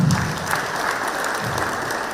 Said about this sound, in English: Deserves a bigger round of applause.